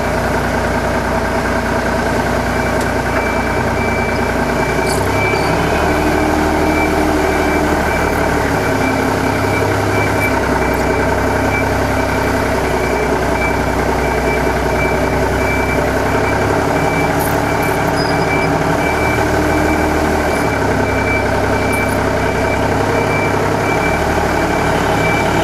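Repeated electronic reversing beeps ring out over the steady running engine of a used Japanese forklift moving inside a narrow workshop, loud and close, with no voices.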